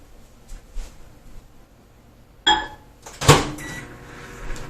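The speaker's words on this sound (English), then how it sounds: "I'm going to give it another 10 or 15 seconds in the microwave" A kitchen microwave oven, used to melt chocolate, gives a short electronic beep, then its door clunks open in a sharp burst. Both sounds are close and stand out against a quiet room with no talk.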